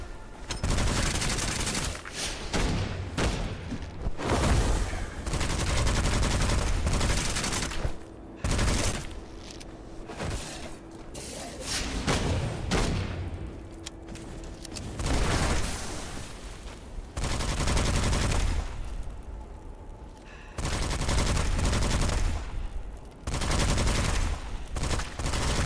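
Video game gunfire erupts in heavy bursts of rapid automatic shots and booming blasts, loud and close, separated by brief lulls of quieter ambience.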